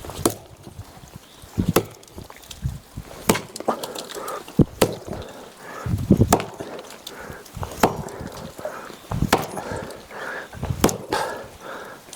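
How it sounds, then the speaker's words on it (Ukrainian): Soft wood is being chopped to shape a plug. Sharp, irregular chopping blows land one after another at close range, with rustling and handling noise between them and no talking. "Іду зараз з якоїсь м'якої деревини виріжу заглушку, заб'ємо її."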